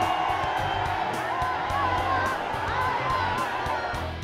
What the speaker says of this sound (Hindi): शाहरुख खान के लिए बेताब इस भीड़ को देखिए।